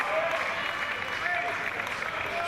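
Steady, moderate applause from spectators at a para table tennis match fills the whole stretch, a continuous patter of hands with no talk on top.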